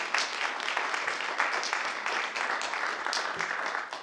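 An audience applauds at a town council meeting, a steady, dense wash of many hands clapping that continues for about four seconds with no voices over it.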